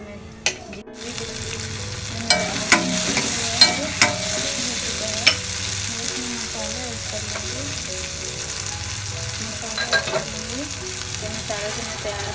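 Cumin and garlic fry in hot oil with a steady, close sizzle, broken by a few sharp clinks of a spoon stirring the pan.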